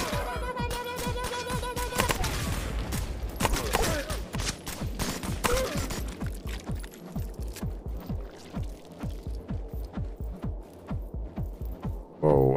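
Rapid bursts of light machine gun fire in a video game, sharp repeated shots in a steady clattering rhythm, loud and close, broken by short pauses and joined by other game effects.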